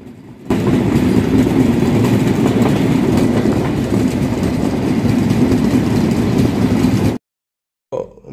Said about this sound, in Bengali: আমাদের ট্রেন তার গতি কমিয়ে দিয়েছে একদম ঠিক হলহলিয়া ব্রিজের আগে